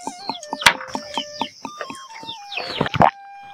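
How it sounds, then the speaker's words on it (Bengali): Chickens and a rooster kept at a hen shelter in Marayan Tong, a hill village in Bandarban, give a quick series of clucks and sharp calls. They sound close and irregular, with short bursts and brief pauses between them. "এখানে মোরগ, আমাদের এখানে মুরগি রাখার"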